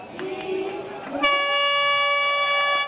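An air horn blasts at the start of a trail race beginning at a mountain temple near Taipei. After a low murmur of crowd noise, a loud, steady, tonal blast sounds and holds for well over a second.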